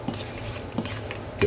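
Pizza sauce with chili flakes stirred in a bowl with a metal spoon, a few soft clinks and scrapes over a brief, close moment with no talk.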